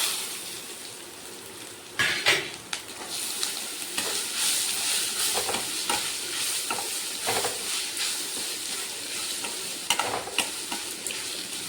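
Grated raw mango tipped into a hot pan of tempered oil with turmeric and stirred, sizzling and hissing steadily with repeated scraping spatula strokes close by, no voices.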